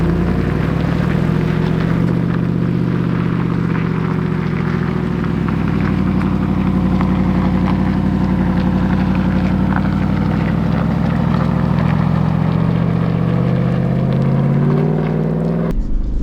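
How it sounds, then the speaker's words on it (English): A Jeep Wrangler 392 V8 on 37-inch tires works off-road in four-wheel-drive low, its engine a loud, steady low rumble that rises and falls gently with throttle for about sixteen seconds before cutting off abruptly at the end. "the V8 just can be absolutely perfect with the modulation."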